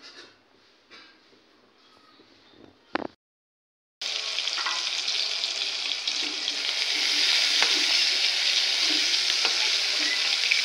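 Slices of pointed gourd and bitter gourd frying in oil give a loud, dense, continuous sizzle that starts abruptly after a few quiet seconds of faint household sounds.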